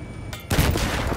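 A coaxial machine gun fires in the Battlefield video game, a loud, dense burst of rapid gunfire erupting abruptly after a brief quieter moment and sustaining to the end.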